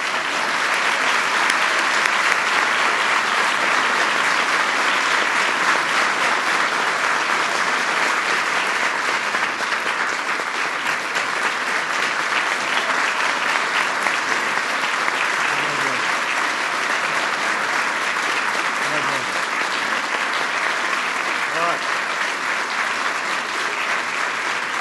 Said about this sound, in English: Please give them one last big round of applause.